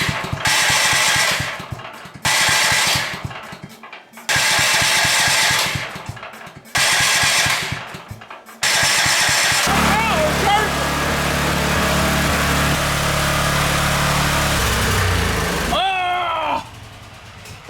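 A small engine on a wood-gas generator chugs in bursts that cut in and out several times, then settles into a rougher steady run with a low drone as it slowly dies, with faint talk near the end.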